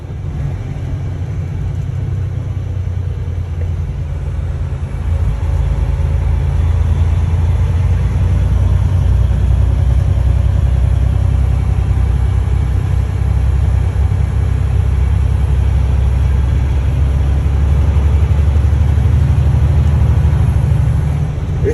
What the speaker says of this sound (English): Let the engine do all the work.